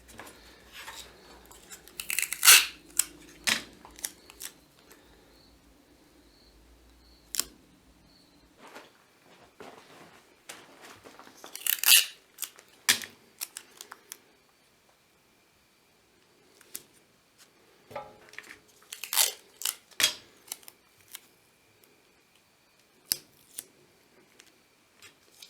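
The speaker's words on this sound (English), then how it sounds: "We're going to take our Scotch tape." Scotch tape being pulled from a roll and cut while preparing a stencil for etching a maker's mark, sharp intermittent rips and snips in clusters separated by quiet pauses, close up.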